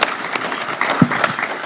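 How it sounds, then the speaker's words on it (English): Audience applause at a talk on adversity and business, a brief burst of clapping from a crowd, steady and moderately loud. "So definitely would like to give her a hand of applause"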